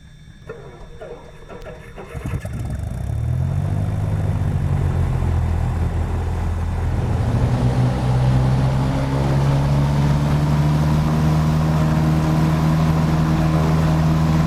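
A light aircraft engine in a flight simulator game starts up and settles into a steady propeller drone, the pitch rising as revs climb during the run-up and then holding a constant hum.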